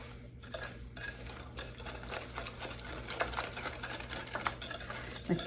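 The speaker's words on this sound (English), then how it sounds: "And stir it all together" Spices and sugar (cinnamon, ginger, cloves, pumpkin spice) being stirred together in a bowl for pumpkin pecan pie filling, a steady close scraping and clinking of utensil against bowl with a constant background hum.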